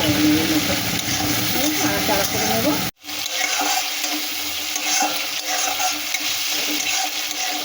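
Vegetables with dry chilli powder, coriander and ginger frying in a pan for a shrimp curry, a dense close sizzle with stirring scrapes that cuts out briefly, then resumes steadily.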